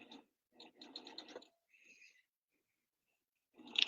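A sewing machine fitted with a plain hemmer foot stitches a hem in short, quiet bursts of rapid mechanical ticking. Brief pauses separate the runs, and a louder whirr comes at the end.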